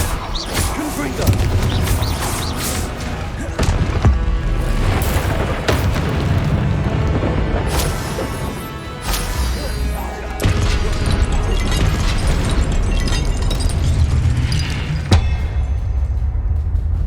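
Confringo blasting spells from the Hogwarts Legacy video game: repeated loud booms and crashing impacts burst out over steady game music and effects, with voices heard amid the din.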